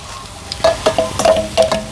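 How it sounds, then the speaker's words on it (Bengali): Boiled mashed potato being stirred into a chicken mince mixture with ginger, green chilli and coriander for chops, giving a few soft, close, moist stirring and squelching strokes in an irregular rhythm with no voices. "এই যে সিদ্ধ আলুটা ম্যাশ করে রেখেছিলাম দিয়ে দেব"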